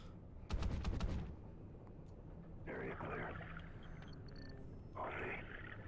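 Call of Duty: Ghosts underwater Scuba mission gunfire, a quick close burst of shots followed by muffled underwater rumble and bubbling bursts.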